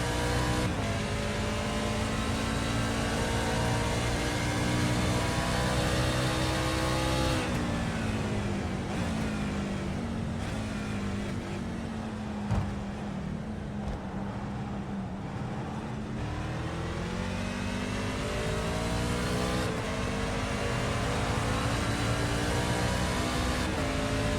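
Race trucks roar around the Charlotte Motor Speedway Roval in a NASCAR-style truck series, with a loud, continuous engine drone whose pitch rises and falls as trucks accelerate, brake and pass through the turns.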